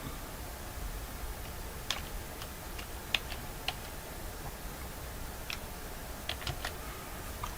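Keys tapped on a computer keyboard while a project name is typed in Visual Studio 2019, giving about a dozen sparse, light clicks at an uneven pace over a steady background hiss, with no talking.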